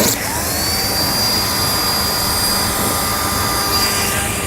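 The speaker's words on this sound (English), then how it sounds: "If you have a Dremel tool or a rotary tool like this" Dremel-style rotary tool cutting plastic during a trailer hitch install on a 2016 Jeep Patriot, a loud, close, steady high-pitched whir held for a few seconds without pause.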